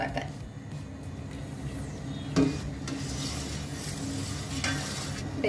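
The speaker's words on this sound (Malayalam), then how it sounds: "ഇത് തിളച്ചു തുടങ്ങി." Cow's milk kadala pradhaman, a sweet chickpea pudding, comes to a boil in a pot with a soft, steady bubbling hiss, punctuated by a few light clinks and scrapes of a spoon against the pot.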